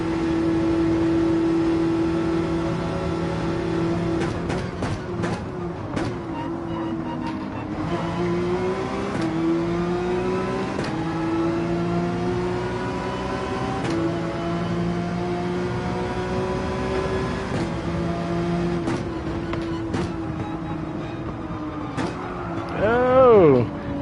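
Gran Turismo 7 race cars hum and whine through a race, engine pitch climbing and dropping with gear changes, tires scrubbing, a loud engine swell at the end, with someone talking over it.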